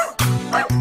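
Two quick, yappy dog barks sound in a children's nursery rhyme, close and loud, set against a bouncy musical backing.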